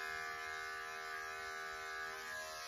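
Electric clippers shaving a cocker spaniel's ear hair, a steady continuous motor buzz held close and constant, with no speech.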